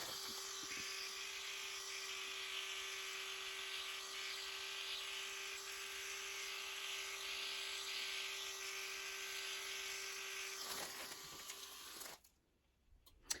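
An InnoPen microneedling pen buzzing steadily on skin, a close, continuous high-pitched electric whir that holds for about twelve seconds and then cuts off abruptly.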